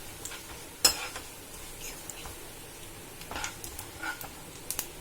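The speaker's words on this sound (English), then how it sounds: "As the jeera starts to splutter up" Cumin, coriander and fennel seeds crackle faintly in hot oil, with one sharp pop early on and scattered soft spluttering pops through a low steady sizzle.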